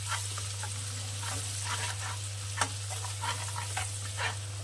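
Ground spices, including salt, turmeric and chili powder, fry in a wok with a steady close sizzle. Scraping stirs and a few sharper clicks run over it, and no voices are heard.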